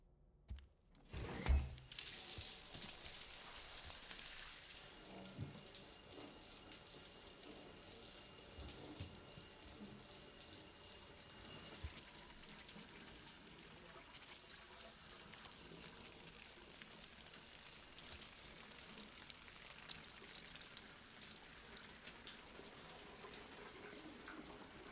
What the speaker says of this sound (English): Now you shower.